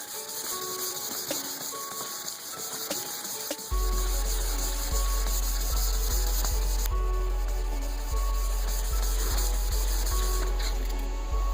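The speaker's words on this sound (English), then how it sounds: "Let's sand on this." Wet sanding custom paint on a 1973 Chevy Caprice with 600 grit sandpaper, a continuous hissing, scrubbing rasp that grows louder and steadier partway through.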